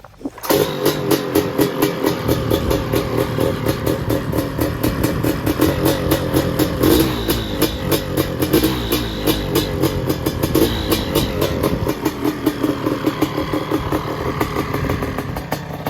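A Honda 250R two-stroke dirt bike engine runs loud and close on sand dunes, with a steady rapid crackling idle and repeated revving bursts that continue throughout without talk.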